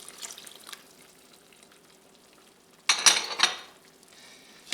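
Cornstarch and water slurry poured into a simmering Irish stew made with beer and chocolate, a brief liquid splash and sizzle burst midway through a quiet stretch with faint bubbling.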